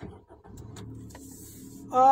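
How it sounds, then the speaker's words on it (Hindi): A 2023 Maruti Suzuki Wagon R VXI starts near the end: a brief starter crank rises into a steady engine whine, following quiet cabin rumble and faint murmuring. "चलिए गाड़ी को करते हैं स्टार्ट"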